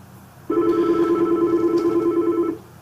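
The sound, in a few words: phone ringing after click to dial call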